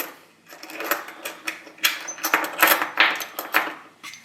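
Stainless steel washers being stacked one on another for a fire-resistant seed phrase backup, giving a run of bright metallic clinks and jingles, close and fairly loud, with no talking.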